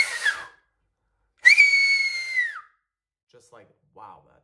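Loud, piercing whistle made with the lips, a short burst followed by a longer sustained tone that slides down at the end, then a couple of faint breathy attempts.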